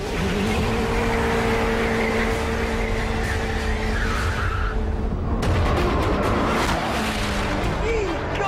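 A Gumpert Apollo sports car with an Audi 4.2-litre twin-turbo V8 revs hard and loud at close range, engine note rising and shifting with tyre squeal and a sharp change midway.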